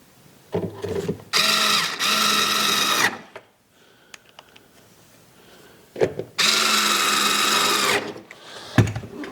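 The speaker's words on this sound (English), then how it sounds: "Put those 2 bolts back in." A power drill drives two bolts back into a vehicle taillight, two loud whirring bursts of about two seconds each separated by a quiet gap with faint clicks.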